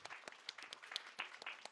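Scattered applause from a rally audience after the speakers, individual claps distinctly separated and irregular, fairly faint and thin, from only a modest number of hands.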